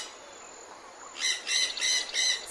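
A white-rumped shama (murai batu) calls with a run of bright, repeated whistled phrases in the second half, fairly close and clear over a quiet background, after a thin steady high tone.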